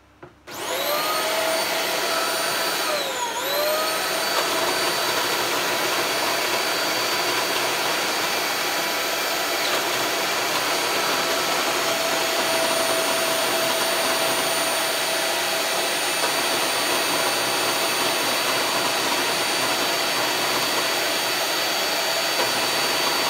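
A 2000 watt Piranha vacuum cleaner with a faulty, wobbling brush roll switches on and runs, a loud steady motor roar with a whining tone that dips briefly early on, then drones on continuously with no talking.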